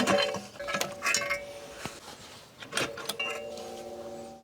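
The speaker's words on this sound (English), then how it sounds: "Now we're gonna take the intake manifold off." Metal clinks and scrapes ring out in scattered bursts as the intake manifold comes off a BMW V12 engine from a 750iL, with sharp knocks and rattling parts close by, no voices.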